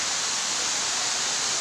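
River water flows in a continuous broadband rush, steady and fairly loud, with nothing else heard over it.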